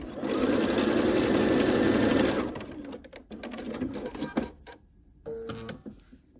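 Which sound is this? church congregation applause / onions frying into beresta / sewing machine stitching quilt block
sewing machine stitching quilt block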